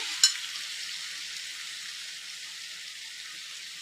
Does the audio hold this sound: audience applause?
no